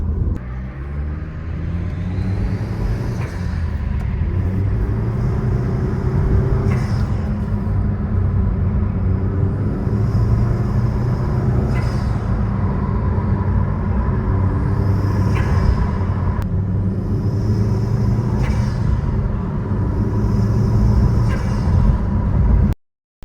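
A car engine fitted with a newly installed diverter valve revs repeatedly, steady rumbling idle broken by several rising throttle blips with a brief whoosh on release, loud and close, no talk.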